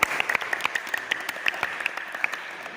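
Pupils in a school physical education class clap for a group after its push-up exercise: a scattered, uneven patter of individual claps from a small group, fairly close and steady for about three seconds with no talking.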